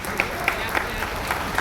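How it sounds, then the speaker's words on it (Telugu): Scattered audience clapping in a Telegu-speaking gathering, a thin patter of hands with a few sharper claps standing out at regular intervals over steady room noise, moderately distant. "కృతి చప్పట్లు కొట్టండమ్మా"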